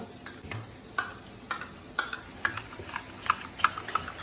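A spoon clinks and scrapes rhythmically against a glass, stirring a cornflour mixture, a steady series of light taps, close and fairly quiet.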